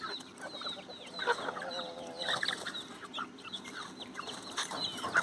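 Free-range country hens cluck in short bursts while chicks peep in high, quick chirps, several birds calling close by in an irregular, busy chatter outdoors.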